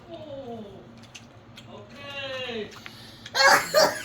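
Quiet talking and a voice, then a sudden sharp sneeze, two quick bursts close by at the end.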